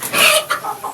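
Kampung chickens on a farm of about a thousand birds cluck in a short burst of close, bright calls, then two softer clucks follow.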